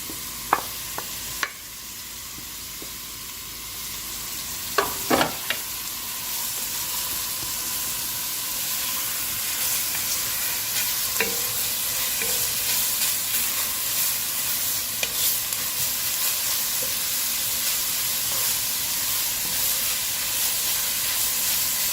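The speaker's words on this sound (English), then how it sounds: "So I'm going to saute the carrots first." Carrots and onion sauté in a pan for a quick zucchini soup, giving a steady soft sizzle throughout with a few sharp clinks and stirring knocks near the start and now and then later, with no talking.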